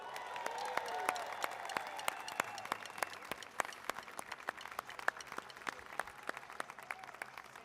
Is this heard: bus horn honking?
no